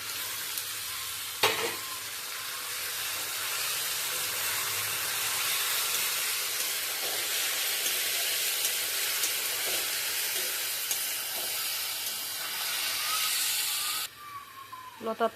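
Lata vine vegetable sizzles loudly in a pan with fried onions, a sustained hissing fry with stirring scrapes throughout, close, cut off abruptly near the end as the noise drops away.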